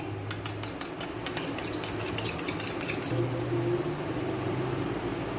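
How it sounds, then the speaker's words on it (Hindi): An egg with salt beaten in a bowl, a quick run of about a dozen sharp metallic tapping strokes followed by softer scraping, close and fairly quiet over a low background hum. "अंडे के अंदर हम थोड़ा सा नमक डालेंगे और इसको अच्छे से फेंट लेंगे।"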